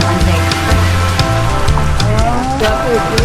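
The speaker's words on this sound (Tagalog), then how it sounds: "Ayan na, medyo umulan na." Steady rain patters on a surface, with drops tapping throughout while people talk nearby over it.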